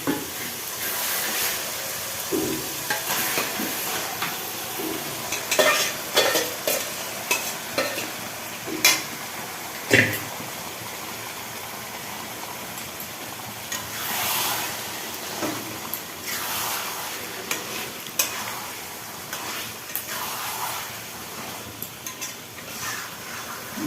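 Marinated chicken coated in spice paste, cumin, coriander, chicken masala, salt and turmeric frying in a pan for dum biryani, loud sizzling hiss with repeated scraping stirs and clanks throughout, no speech.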